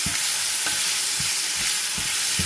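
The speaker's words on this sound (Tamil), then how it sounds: "போட்டுட்டு இதை நல்லா ஃப்ரை பண்ணுங்க" Tomato with salt frying in a pan gives a steady bright sizzle, punctuated by about six soft, regular thuds of a spoon stirring close by.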